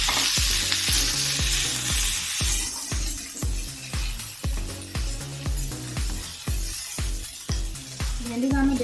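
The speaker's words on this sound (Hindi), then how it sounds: "तो भेंडी को आम फ्राए करनबा।" Okra frying in hot oil in a wok, a loud, steady sizzle with rhythmic stirring scrapes repeating about every half second throughout, close up and with no talk.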